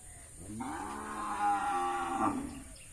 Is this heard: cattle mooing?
yes